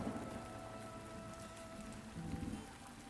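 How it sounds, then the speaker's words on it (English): Steady rain falls in the video game Goodlands, a soft continuous patter that holds at an even, fairly quiet level from start to finish with no voices. "Don't you just love it when it rains?"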